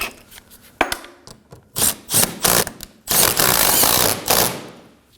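A hand ratchet snugs a 10mm bolt on the radiator fan of a 2014-2020 Acura MDX, giving short bursts of rapid clicking and rasping that build into a longer run of cranking near the end, close and loud with no talk.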